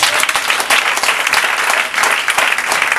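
A church congregation bursts into loud, sustained applause and cheering, a dense wash of many hands clapping steadily from start to finish.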